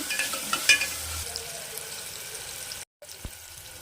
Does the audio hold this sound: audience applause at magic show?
no